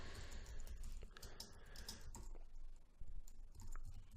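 Quick, close typing on a computer keyboard, a run of light key clicks that continues steadily at low level.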